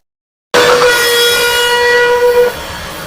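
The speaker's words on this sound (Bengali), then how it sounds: "ট্রেনের একটা ভীষণ আওয়াজে" Cartoon train sound effect, a loud steam-whistle-like horn blast bursting in from silence with a rumbling train roar beneath, held steadily for about two seconds before fading slightly.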